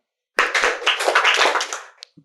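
Hands clap together in a short, dense burst lasting under two seconds during a Brahma Kumaris spiritual class, close and fairly loud, followed by a brief faint tap.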